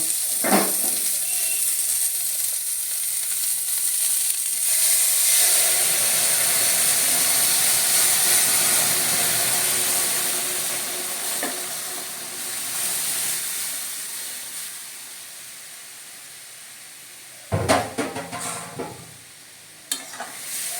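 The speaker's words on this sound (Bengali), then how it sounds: "এখন ডালটা ঢেলে দেব" Masoor dal (red lentils) hitting a hot pan, giving a loud, steady sizzle and hiss that fades gradually, followed by a few sharp clanks of a utensil against the pan near the end.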